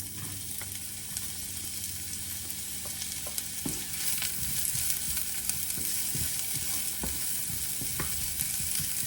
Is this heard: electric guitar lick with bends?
no